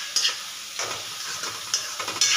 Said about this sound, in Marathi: कांदा पूर्ण ब्राऊन कलर येईपर्यंत आपल्याला परतून घ्यायचं आहे.